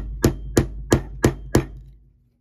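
A hammer strikes a stake onto a part of a Westclox Sphinx electric clock during servicing, five evenly spaced sharp taps close by over a low steady hum.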